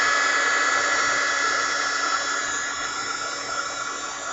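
A heat gun blowing steadily, a continuous high airy whoosh with a motor whine that holds level for several seconds, close and moderately loud with no talking.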